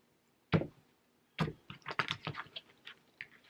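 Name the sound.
shuffling a deck of cards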